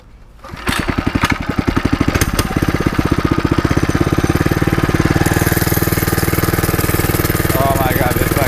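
A 79cc motorized bike engine runs steadily while being ridden, a loud, fast buzzing two-stroke putter that starts up and holds a constant rhythm close by, with a voice talking over it.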